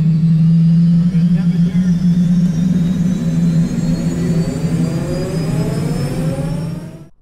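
An MBB Bo 105 helicopter's number one turbine engine spools up, a loud steady whine with rising tones that keeps building, then cuts off abruptly at the end.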